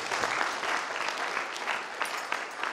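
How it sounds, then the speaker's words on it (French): Applause from the audience at an international colloquium on family farming, sustained and moderately loud with a dense, even patter of many hands. "je voudrais que tous ici, nous applaudissions vraiment très fort IPAR pour son extraordinaire travail"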